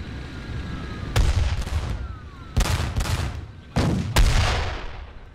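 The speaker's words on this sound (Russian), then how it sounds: "Стреляет наша 85-миллиметровая пушка" In the Kursk 1943 battle game Theatre of War 2, an 85 mm anti-tank gun and other guns fire sharp, booming shots, four heavy blasts spaced unevenly, each trailing into rumbling decay over a constant battlefield din.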